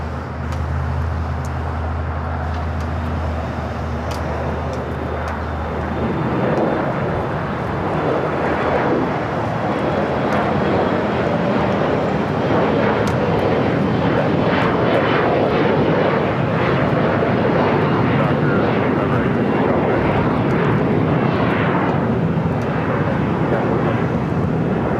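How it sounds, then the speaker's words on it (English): Alaska Horizon airliner taking off at LAX, a broad jet roar that builds after a few seconds and holds loud and steady, with road traffic rumbling nearby. "taking off, heading to Vegas, Alaska Horizon Flight 2183"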